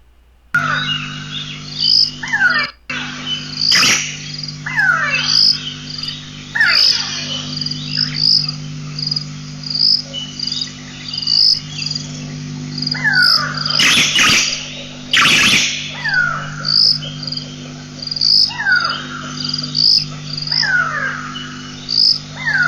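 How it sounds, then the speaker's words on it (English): Outdoors, a go-away bird gives repeated harsh, nasal calls at irregular intervals, loud and fairly near, over a constant background of insect and frog chirring. "immediately it clicked in why they call it the go-away bird"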